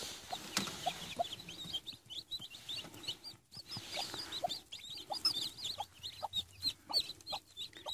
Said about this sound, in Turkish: Civcivlerimiz bunlar arkadaşlar.